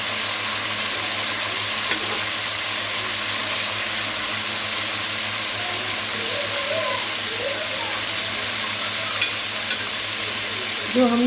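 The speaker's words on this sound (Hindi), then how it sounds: "तो इसको थोड़ा हम फ्राई होने देंगे" Tender mutton fries in a kadai, with a constant close sizzle and hiss and occasional stirring scrapes, continuing steadily with no speech over it.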